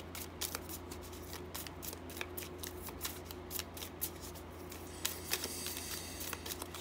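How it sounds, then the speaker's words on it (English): Quiet, rapid flicking of cards being shuffled, a steady stream of soft crisp ticks with no voices. "Yes, I'm trying to slow down my shuffling."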